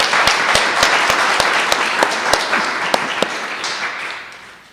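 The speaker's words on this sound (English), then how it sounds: "Please give a huge round of applause to Aaron from Airbnb" Audience applause at a startup meetup for a guest speaker, loud close clapping from a room of people with distinct sharp claps over a dense wash, fading toward the end.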